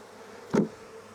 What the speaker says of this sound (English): Can't even get my hive tool in there. So many bees.